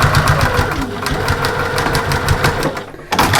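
A sewing machine stitching a side seam on a fabric storage caddy, a fast, close mechanical whirring rattle with rapid regular needle beats, briefly pausing before resuming.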